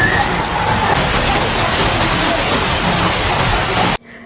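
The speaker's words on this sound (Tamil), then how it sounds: "ரெசிபி ஸ்டார்ட் பண்ணும்போதே மழையும் ஸ்டார்ட் ஆகிடுச்சு" Steady heavy rain falling outdoors, a dense, loud hiss that continues unbroken for several seconds before cutting off abruptly.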